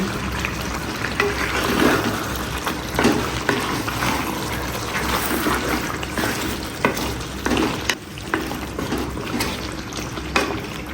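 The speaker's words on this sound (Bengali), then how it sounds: "মাংসটা বুনা হয়ে গেছে এখন এটার মধ্যে আমি কলিজা দিয়ে দিব" Beef with liver just added frying in a pan, a steady loud sizzle running throughout with occasional stirring scrapes and no voices.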